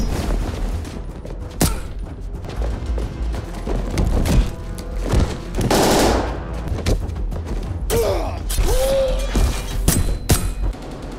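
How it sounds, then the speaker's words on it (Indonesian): Bursts of gunfire in an action film battle scene with soldiers, sharp loud shots and rapid volleys scattered across the clip alongside crashes and thuds. "Dan Femi tertembak."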